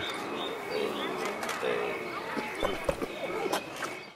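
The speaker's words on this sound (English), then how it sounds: "Just because she's a video game horse doesn't mean that Roach does not have a need to eat and drink" Roach, Geralt's horse in The Witcher 3 video game, clip-clops with hooves in a steady stream of close, moderately loud hoof beats over a busy game background, with voices murmuring underneath.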